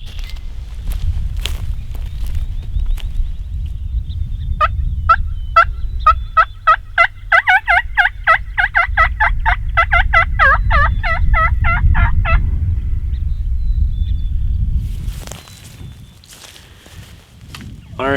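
A turkey gobble call used by another hunter on Iowa public land sounds as a rapid rattling gobble sequence that carries well, with footsteps, rustling and a voice around it.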